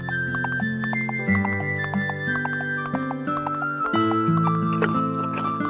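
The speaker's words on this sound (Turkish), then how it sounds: "Atlar yeni evlerine giriyor." Cartoon horses walk into their new stable, their hooves clip-clopping in a steady rhythm, with occasional whinnies over bright, continuous background music.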